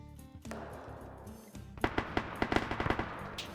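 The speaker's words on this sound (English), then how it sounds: "Crew's shooting from back there" Bursts of automatic gunfire from a teammate in a military video game, a rapid run of sharp shots with some louder cracks, fairly near and alone without talk.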